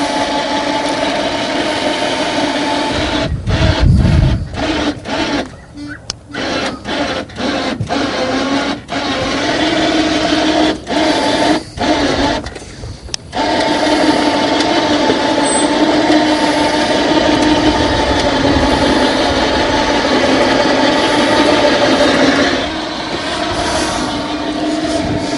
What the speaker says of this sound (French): c'est un très beau treuil et puis ça marche